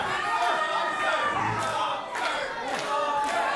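A wrestling crowd at a live show cheers on the champion with loud, sustained shouting and roaring that swells and dips in waves.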